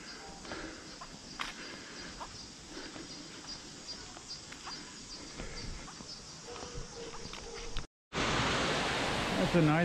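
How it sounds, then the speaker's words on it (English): A small waterfall in a park in the middle of Rio de Janeiro rushes steadily as a broad, even wash of water noise that continues throughout, then drops out briefly and returns louder and brighter. "That's a nice refreshing waterfall."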